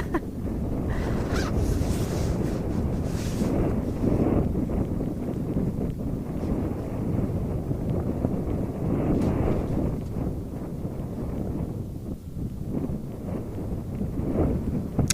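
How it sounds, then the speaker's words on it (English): Wind flaps and buffets a jacket hood outdoors near the sea, a continuous close rumbling rustle with irregular gusty surges, and no talk. "The wind is catching my hood."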